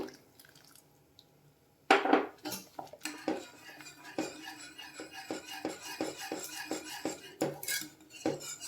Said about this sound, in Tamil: இப்போ இந்த கஸ்டர்ட் பவுடரையும் நம்ம இது கூடவே சேர்த்து கொஞ்சம் கொஞ்சமாக கலந்து விட்டுடலாம்